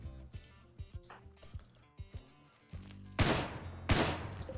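Gunfire in RimWorld, a colony game set around a factory fortress, crackling as a rapid string of sharp shots with uneven spacing, then two louder, heavier blasts close together near the end, with no voices.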